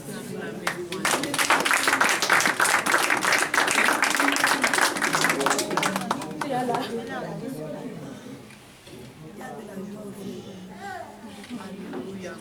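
Clapping and cheering in a Christian worship gathering where God is praised, with a crowd applauding steadily over voices and children's speech, tapering into quieter talk.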